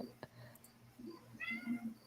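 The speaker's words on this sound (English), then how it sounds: "Oh, do you hear my cat?" A domestic cat meows indoors, with a few faint, short mews followed by a clearer, drawn-out meow near the end, close by but quiet.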